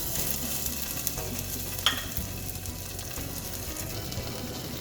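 Beef strips topped with cheese slices frying in a pan, a soft continuous sizzle and crackle with a few light clinks, close and steady, no talking.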